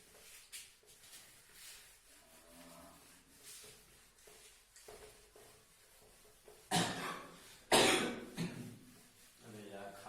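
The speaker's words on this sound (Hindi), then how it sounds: "खांसी काय हो रही है" Two loud, harsh coughs break through near the end, standing out from softer background speech and rustling indoors during a home maths lesson.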